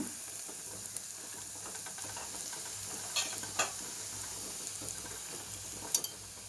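Grated coconut stirred and frying in a pan for a coconut and moong dal curry, a steady soft sizzle with a few light scrapes and taps of the spoon, close by and fairly quiet, no talk.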